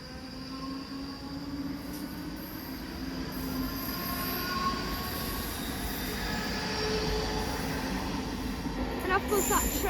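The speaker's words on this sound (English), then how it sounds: "And off goes that train." A train departs Haymarket station bound for Helensburgh Central, a steady rolling rumble with faint wheel squeal. The noise swells slightly as it pulls away, heard from the platform at a moderate distance.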